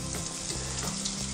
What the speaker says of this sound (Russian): Давайте начнем жарить.